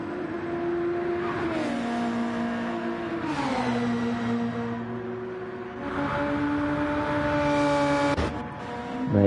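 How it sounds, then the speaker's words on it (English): Race car pulling into the pits in Gran Turismo 7 on Trial Mountain reverse, a whining engine tone that drops and rises with gear changes and speed, steady and fairly loud, with no talk over it. "There you have it, Cameron Kaboom into the pits"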